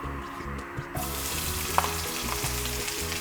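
Sliced bell peppers hit a little hot oil and sizzle steadily, a close, continuous frying hiss with faint clinks from the pan; musical tones run underneath and no one speaks.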